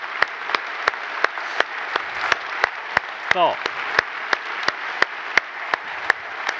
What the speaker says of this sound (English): I would like you to please give them a hand